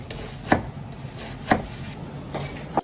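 A street food cook chops cabbage on a board with three sharp, evenly spaced knife strikes about a second apart, close by over a steady background hum of a busy stall.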